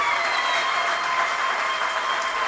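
A church congregation claps during a service, a brief, steady wash of many hands applauding together at an even level, with no voices above it.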